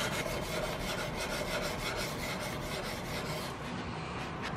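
A file is drawn along a rifle barrel on a Gemmer Hawken build in repeated close, rasping strokes, a dense scratchy sound running steadily throughout with no talk.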